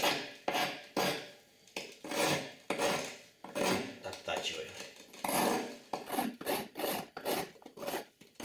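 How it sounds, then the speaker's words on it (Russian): A hand file rasping a piece of brick so its cone fits into a bottle neck, in close, rhythmic back-and-forth strokes that quicken toward the end, with no voices. "Для этого берем напильник и"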